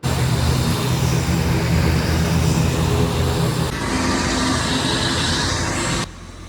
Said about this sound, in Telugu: బాబోయ్, సౌండ్ మాత్రం చాలా నాయిసీగా ఉంది